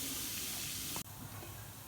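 Hot ghee tempered with turmeric is poured over chickpeas and sizzles with a bright, loud hiss that cuts off sharply, followed by a softer, steady sizzle.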